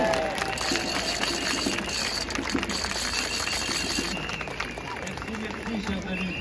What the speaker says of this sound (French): Je vous prie de lui faire un tonnerre d'applaudissements.